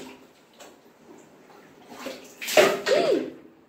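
Water sloshing and spilling over the edge of a bathtub in a home, a soft splashy rush that swells briefly near the end, with faint voices in the background.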